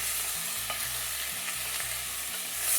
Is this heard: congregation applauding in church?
no